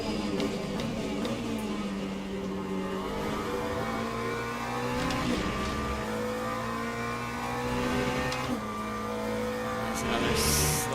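Hypercar race cars at Interlagos in Le Mans Ultimate, engines droning and shifting pitch as several cars pass in turn, loud and continuous with gear changes, under commentary.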